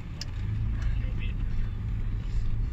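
Car driving along a narrow road in Saudi Arabia, a steady low engine and road rumble heard from inside the cabin with a few faint clicks.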